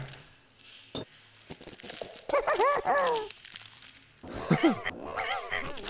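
A dog whimpers and yelps in the Bulb Boy horror game while it is trapped in spider web, with two bursts of strained, wavering cries between quieter rustling and thuds.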